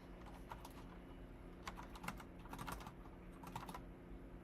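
Quiet typing on a new computer keyboard during a coding session, with uneven bursts of soft key clicks and no voice.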